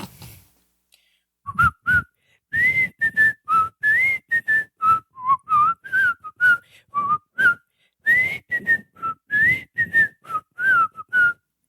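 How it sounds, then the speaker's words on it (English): A person whistles a lively tune up close, clear notes in quick short phrases with brief breath pauses between them. "This is my entry in the contest, in the whistle off."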